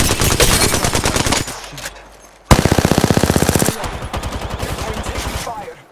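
Rapid automatic gunfire from the Apex Legends video game, two loud close bursts of machine-gun fire separated by a short pause, the second a fast, even stream of shots, with game voice lines over it.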